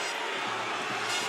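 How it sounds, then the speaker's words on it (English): A boxing crowd at the Hatton versus Castillo fight murmurs and jeers in disapproval of the clinching, a steady broad wash of arena noise held at moderate level throughout. "Crowd don't like the holding"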